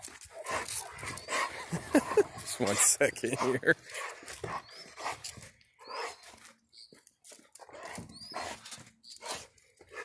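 A dog whimpers and pants close by in a home, with short yelps and whines broken up among a person's speech.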